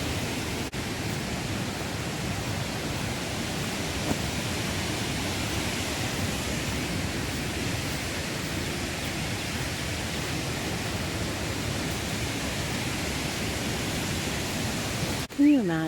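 Decew Falls waterfall: a steady, dense roar of falling water that fills the whole scene at constant loudness, broad and unbroken, with a short bump near the end.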